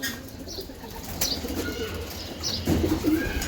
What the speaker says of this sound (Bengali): দেন কবুতর দেন